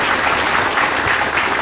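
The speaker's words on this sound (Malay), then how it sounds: "berikan tepuk tangan buat mereka semua" Studio audience at an Indonesian TV talk show claps loudly and continuously, a dense, even wash of applause with no voices over it.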